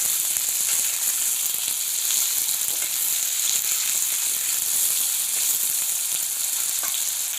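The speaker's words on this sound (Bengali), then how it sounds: "আলুগুলোকে একটু ভেজে নেব আমি।" Sliced potatoes sizzle and fry steadily in hot oil in a pan for a bean curry, a continuous bright, dense crackle with fine spitting, close and fairly loud throughout.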